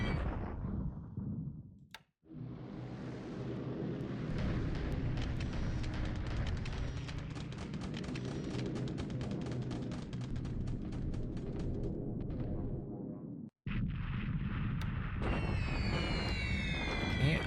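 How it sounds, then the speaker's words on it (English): Bombing run explosions in the War in the Pacific strategy game, a dense run of booming blasts and crackling impacts that fills most of the stretch, with two brief breaks and a sharper burst near the end. "Bombing these guys out in the jungle."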